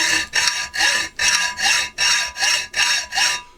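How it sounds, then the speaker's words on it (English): Hacksaw blade cutting at a shallow angle with many teeth on the work, steady rhythmic push-pull strokes, about seven rasping passes in quick succession, close and loud with no talk. "you can hear that the blade is cutting nicely"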